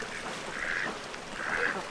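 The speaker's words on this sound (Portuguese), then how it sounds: "Está cheio de pato." Ducks on a freshwater lagoon give two drawn-out nasal quacking calls, fairly faint and a little distant, over a soft outdoor background.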